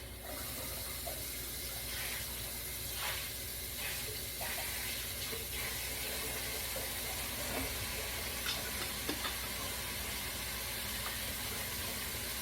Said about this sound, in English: That way I rinse out the jar.